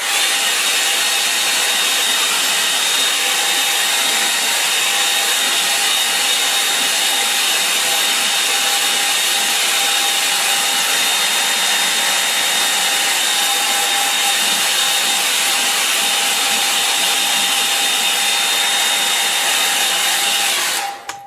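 A hair dryer blows steadily and loudly over a watercolour painting, a constant rushing whir with a faint whine that runs unbroken for the whole stretch and cuts off at the end.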